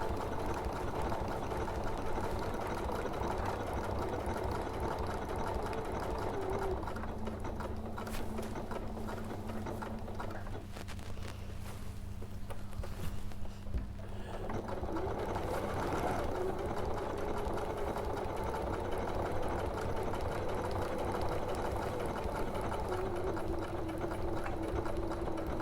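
Sewing machine stitching slick, coated fabric without a Teflon foot, a steady continuous mechanical whir running throughout, easing slightly for a few seconds midway before resuming at an even pace.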